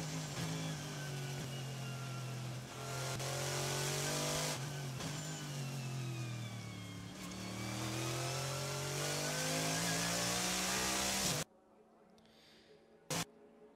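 A Lancia Beta Monte Carlo Turbo race car holds steady throttle at the Nürburgring, a loud, close, continuous engine howl with slight pitch swells, then cutting off abruptly to near silence with one brief burst near the end.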